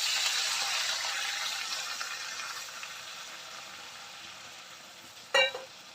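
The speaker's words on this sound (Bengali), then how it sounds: "মাথাগুলো সিদ্ধ হওয়ার জন্য সামান্য একটু জল দেব।" Loud, steady sizzling of eggplant frying in a pan fills the whole stretch, with a sharp clink of a utensil or lid against the pan near the end.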